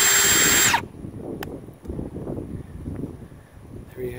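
A Ryobi PSBHM01 battery-powered hammer drill with two speed settings whirs loudly at high speed, then cuts off abruptly, leaving a quieter rumble of low handling noise.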